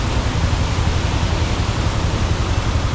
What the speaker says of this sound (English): I can show you hundreds of waterfalls in this Charmadi section.